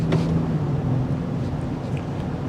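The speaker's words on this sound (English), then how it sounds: "The exhaust filters in a little bit." A 2024 Land Rover Defender 110 xDynamic exhaust drones low and steady while driving, a muted rumble mixed with road and wind noise, close and continuous with no voices.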